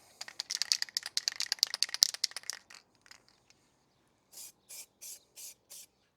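Red candy paint sprayed from an aerosol can onto brake calipers of an Audi A3 8L, a dense run of short hissing bursts with can rattles, then a few quieter pauses and five evenly spaced separate spray blasts.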